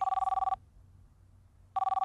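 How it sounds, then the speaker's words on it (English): A telephone bell rings loudly in rapid trilling bursts, one ring, a pause, then a second ring beginning, with no one talking over it. "Dick, will you pick up the damn phone?"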